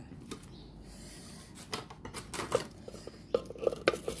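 A mortar and pestle pounds cooked garlic, shallots and chili. Soft scraping gives way to irregular, sharp knocking strikes that grow louder and quicker toward the end, with no speech.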